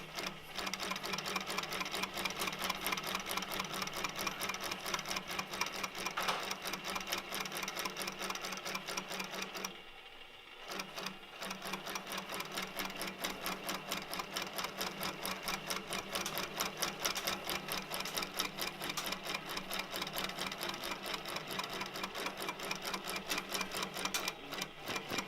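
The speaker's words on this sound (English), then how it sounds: "I'm coming back a second time and basting close to the edge." A sewing machine runs steadily, basting a row of long stitches close to the fabric edge, its rapid even needle clatter filling the space with one brief pause partway through.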